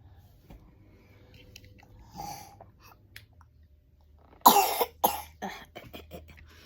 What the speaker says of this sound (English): she's had this gross cough